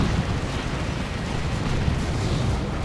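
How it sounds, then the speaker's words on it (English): Las cannon fire destroying tanks in a Warhammer 40k Dawn of War 2 multiplayer battle, a dense rumbling barrage of blasts and explosions rolling continuously for about three seconds, no voices. "This las cannon doing a lot of work."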